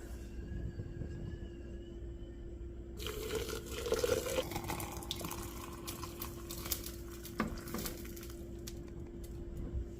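Hot water poured from a kettle into a glass French press for coffee, a steady trickling fill running for several seconds over a constant background hum.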